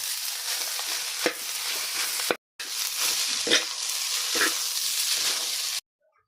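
Kabsa, a Saudi-style rice dish, being stirred and fried in a pan, with a steady loud sizzle, scraping spoon strokes at intervals and a brief break before it cuts off.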